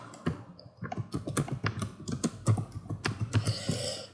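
Computer keyboard being typed on while text is added to a web banner design. Rapid, uneven runs of close plastic key clicks fill the moment, with no one speaking.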